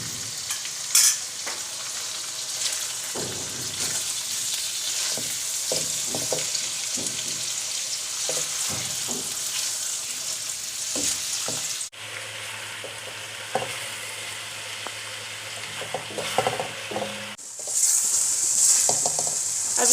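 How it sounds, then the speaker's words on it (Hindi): Chicken sizzling in a frying pan for chicken karahi, a continuous loud hiss with scattered stirring clatters and a couple of abrupt changes in intensity, no voices. "इसको फ्राई करेंगे।"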